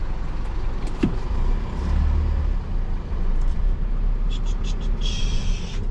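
A car pulls over to the roadside, its engine low and steady with road rumble close by throughout; a brief whir like a power window sounds near the end.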